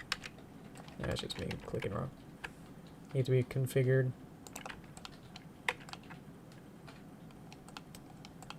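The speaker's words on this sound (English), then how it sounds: "that's just me clicking wrong" Mouse clicks and keyboard taps at a computer while modelling a 3D character, a few scattered light clicks with a short rapid burst, beneath a speaking voice.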